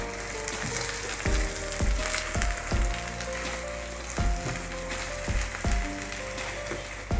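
Brinjal pieces frying in a pan, a steady loud sizzle with repeated clinks and scrapes of a utensil against the pan, no talking.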